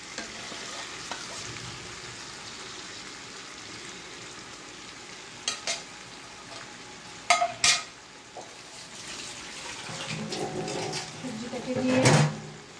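Fish frying in a pan keeps up a steady sizzle as vegetables are added on top, with a few sharp clatters of utensils against the pan and a louder hiss swelling near the end, under a spoken voice.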